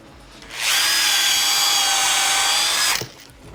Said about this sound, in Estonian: Puurin avad ette, sest nii servast võib minna ots lõhki.